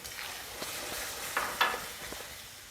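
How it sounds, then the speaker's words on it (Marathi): A coconut and onion paste sautéing in oil for a Konkani-style prawn curry, a soft, steady sizzle with a couple of brief louder stirring bursts, no speech. "ह्याच्यामध्ये मी परतून घेते छान एकदम वाटणाला अगदी तेल सुटेपर्यंत मी परतून घेते"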